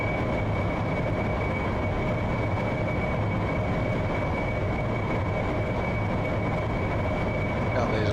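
Harrier jet engine in the DCS flight simulator, a constant dense roar with a steady high whine, unbroken and loud from cockpit perspective throughout.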